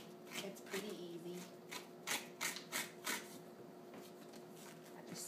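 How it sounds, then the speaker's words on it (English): A spoon scrapes seeds out of a halved spaghetti squash in a kitchen, making soft, repeated rasping strokes in an irregular rhythm, close and quiet. "get a spoon of some sort and just sort of pull the seeds out."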